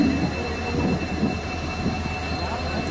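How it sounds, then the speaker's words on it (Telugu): Low rumble and clatter of a train beginning to pull away from Kanigiri railway station on a trial run, with faint tonal hum and background murmur. "ట్రైన్ అయితే బయలుదేరుతుండటంతో"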